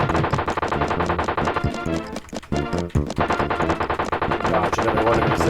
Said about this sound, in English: Dodge another one of his barrages of gunfire.